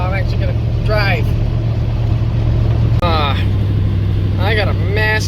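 A Chevrolet Suburban cruising on the highway with a driveline vibration, a steady low drone and road rumble running throughout, with someone talking over it close by.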